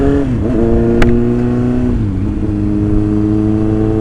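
A Kawasaki ZX9R motorcycle engine running close and loud, a steady idle with a brief blip of revs early on before settling back to an even drone.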